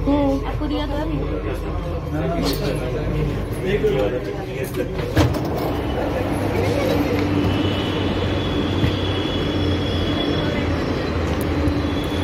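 Delhi Metro train riding, a steady rumble of the moving car with wheel noise and a faint high squeal, close and continuous, under light passenger chatter.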